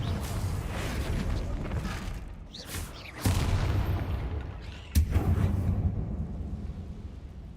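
Two heavy booming blasts from the Confringo fire spell in Hogwarts Legacy, each a sudden loud crack followed by a rumbling roar, set against steady background noise.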